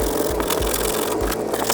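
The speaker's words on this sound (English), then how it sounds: "We're gonna just keep sanding this." Steady abrasive rubbing of sandpaper worked over a raw denim hem to distress it, a continuous close scratchy rasp with a few heavier strokes and no voices.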